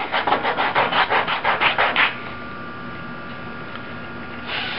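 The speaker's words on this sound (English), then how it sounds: "So I'm using the sandpaper to round out the corner edge" Sandpaper rubbing rapidly back and forth over the corner edge of a leather edge-tool sheath, about a dozen quick rhythmic close strokes for two seconds, then a quiet pause and one final brief rub.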